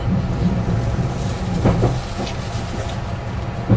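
Steady low rumble of a train riding along the rails, with faint rhythmic clacks and brief higher squeals over constant track noise.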